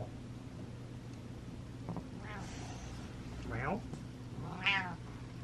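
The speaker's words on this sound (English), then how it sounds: "Meow." A cat meows faintly a few times, three rising and falling cries over a constant low hum, with quiet speech in the background.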